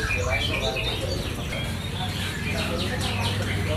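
Caged birds, lovebirds among them, chirp and tweet in scattered bursts at a busy indoor bird market in a mall, layered over steady crowd chatter and background hum.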